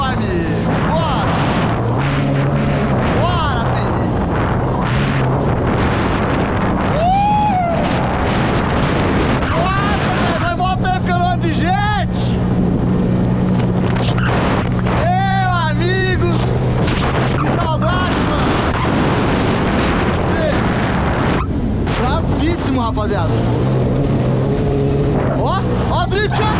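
A jet ski ridden in sport mode on open water near a motorboat's wake, its engine roaring loudly and steadily with rising and falling whines as it accelerates, while someone talks excitedly over the noise.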